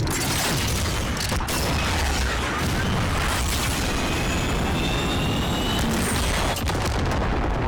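Artillery strike explosions in Call of Duty Modern Warfare make a continuous heavy roar of booms and rumbling blasts, loud and dense for nearly eight seconds, with a faint whistling streak overhead.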